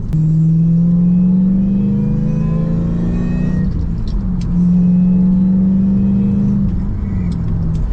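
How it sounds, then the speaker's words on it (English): Steady engine drone of a supercharged manual Lexus GS400 at half throttle with a whining supercharger tone, easing off briefly midway before pulling again, loud and close. "That was about half throttle there."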